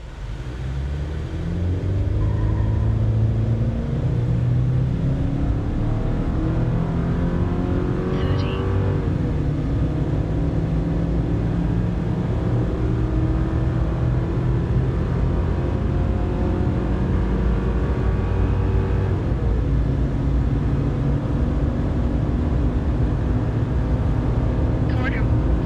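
2023 Chevy Silverado 1500 pickup with a 2.7L four-cylinder engine accelerating from 0 to 60 while towing 9,000 pounds, a loud steady engine drone that climbs in pitch through several gear changes for about twenty-five seconds.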